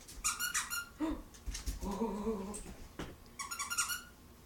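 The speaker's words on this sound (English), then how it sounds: "The squeak." Squeaky Angry Birds dog toy squeezed several times, sharp high squeals in bursts at the start and end, with a brief lower whine in between, fairly close and loud.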